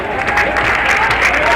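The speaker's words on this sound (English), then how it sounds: "I think our local weatherman needs a big hand of applause" A parade crowd applauds the local weatherman in a short, loud burst of clapping, with voices mixed into the clapping.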